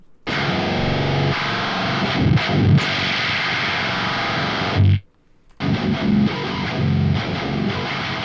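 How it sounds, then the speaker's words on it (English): Loud, gritty foldback distortion drones steadily, briefly drops out near the end, then returns just as dense and fuzzy. "Here we have a basic foldback."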